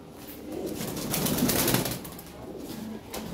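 Large Lahore pigeons coo and rustle nearby, with soft wing flutters and low throaty calls running continuously. A busy flock sits in a loft or cage.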